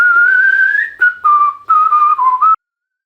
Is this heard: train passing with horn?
no